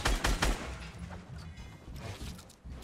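Gunfire in the video game Fortnite: a loud, close flurry of rapid shots at the start, followed by lighter, scattered bursts and clatter.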